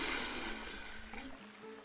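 Otter plunging into water in the Planet Zoo game, a steady close splashing wash of water that thins out toward the end, with no talk over it.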